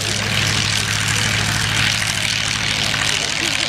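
Edwardian propeller aircraft flying at a Shuttleworth evening airshow, a continuous droning engine buzz that holds steady throughout.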